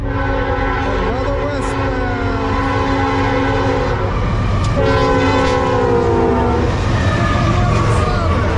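A CSX or Norfolk Southern freight train rolls past blowing its multi-tone horn in two long, loud blasts over the heavy rumble and clatter of the wagons.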